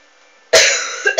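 A person coughs once, loud and close, after a moment of quiet, then gives two shorter, softer cough-like bursts in quick succession.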